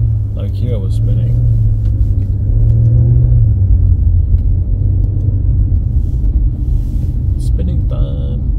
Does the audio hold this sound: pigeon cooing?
no